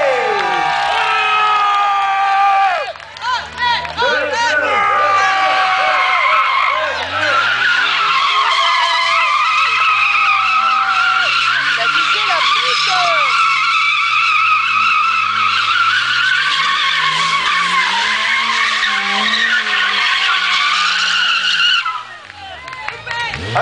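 A drifting car at a Tanconville auto show screeches its tires in a long, loud, continuous squeal with engine roar, while a crowd cheers and shouts throughout.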